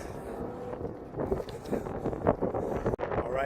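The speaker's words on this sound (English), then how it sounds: "All right guys, it's windy." Wind buffets a smartphone microphone outdoors, making a loud, rumbling, uneven roar with gusty surges and a brief dropout near the end.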